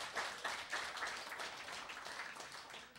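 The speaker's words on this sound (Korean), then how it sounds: "다시 한번 좀 큰 박수 부탁드리겠습니다." Faint applause from an audience at a church lecture, a soft, steady wash of clapping that trails off slowly, with no speech over it.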